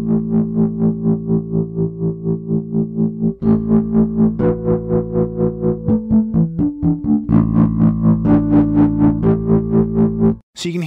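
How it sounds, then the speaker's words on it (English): Distorted bass through the drive channel of an EBS Fafner II amp, with a steady tremolo chopping each sustained note into a rapid, even pulse as the phrase moves between pitches. "you'll hear the tremolo coming in."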